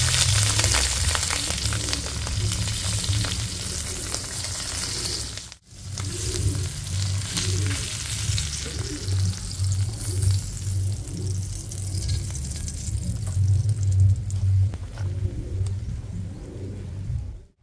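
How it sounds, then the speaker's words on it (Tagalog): Tinapa, a smoked fish, frying in a pan for a countryside Filipino breakfast, a steady close sizzle with low rumbling bursts and one abrupt brief cut partway through, no voices. "Piprito na rin po natin yung tinapa."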